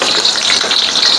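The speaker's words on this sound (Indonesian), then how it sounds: "Kita nak tumis bawang dia, kita masukkan bawang putih dia." Garlic sautés in a pan of hot oil for a mutton-free noodle dish, giving a brief, loud, steady sizzling hiss up close.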